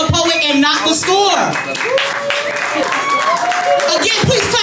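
Audience applause for a poet at a poetry slam, dense continuous clapping heard under loud cheering and talk from the crowd, close and energetic throughout.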